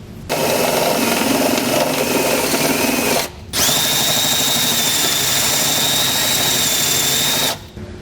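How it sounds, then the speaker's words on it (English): Step bit drilling to enlarge a hole in a steel frame rail of a 2020 Nissan Rogue during a Curt trailer hitch install: two sustained, loud whining bursts, about three and four seconds long, with a brief pause between them. "You can do this with a die grinder bit, or in my case, I'm going to use a step bit."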